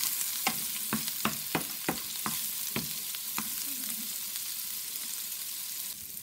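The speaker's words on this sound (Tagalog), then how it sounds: "Kaya, magpo-fried rice po tayo." Rice being stir-fried for fried rice in a pan, a soft continuous sizzle with a run of about eight sharp spatula scrapes, then steadier frying.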